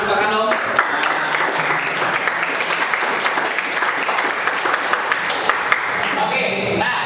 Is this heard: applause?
yes